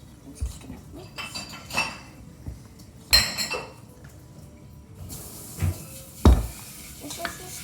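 Batter mixed by hand in a bowl with a spoon, irregular clinks and scrapes against the bowl separated by quieter pauses, close and heard without speech.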